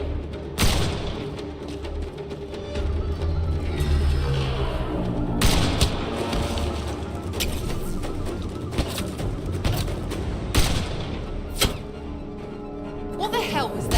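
Gunfire in Mass Effect Andromeda, scattered sharp shots and thuds popping over a busy game soundscape with bursts of voices.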